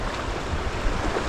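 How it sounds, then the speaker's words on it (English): Strong north wind gusting at about 45 miles an hour through tree tops beside a river in Michigan's Upper Peninsula, a loud, steady broadband roar with buffeting gusts against the microphone and no voices. "it's like 45-mile-an-hour north gusts right now"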